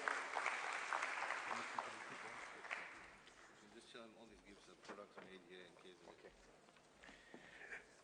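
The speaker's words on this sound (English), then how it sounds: "Please give a big round of applause." Applause from an audience at a KwaZulu-Natal trade and investment indaba marking World Halal Day, a fairly faint spread of clapping that tapers off, heard under a speaker talking at an event.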